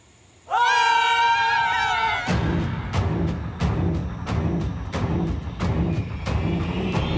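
A sudden burst of loud, shrill screaming from several people, then a rush of chaotic noise with rapid thumps and clatter, like people fleeing.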